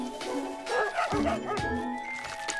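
Sharp, close dog barks in the video game Bokura, a quick run of yapping notes layered over constant electronic game music.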